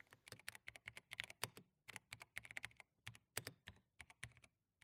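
Brisk typing on an 8KHz gaming keyboard with MX2A Brown tactile switches, a quick uneven run of crisp close keystrokes with short pauses, alone and fairly soft.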